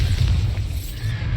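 A deep, rumbling boom from the Bombarda spell in Hogwarts Legacy, a heavy low-frequency blast that fills the short moment without any voices.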